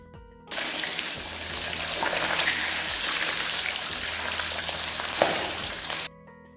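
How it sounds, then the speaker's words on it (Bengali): Pieces of fish frying in a pan for a light Bengali fish curry with bottle gourd, a steady broadband sizzle starting abruptly and holding loud and close for about five seconds before cutting off. "মাছের টুকরো একে একে দিয়ে মাছ ভাজতে হবে।"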